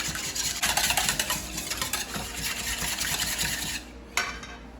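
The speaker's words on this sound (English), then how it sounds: "Whisk that together." Almond milk batter with almond extract is whisked briskly in a bowl, a fast continuous swishing and light clinking of the whisk against the sides, close and steady, stopping near the end.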